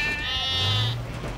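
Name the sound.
children imitating goat bleating in a cartoon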